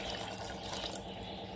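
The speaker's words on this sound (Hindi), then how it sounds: "और थोड़ा पानी डालना पड़ेगा इसमें" Water pours steadily into a cooking pot while pongal is being prepared, a continuous close splashing stream with no talk.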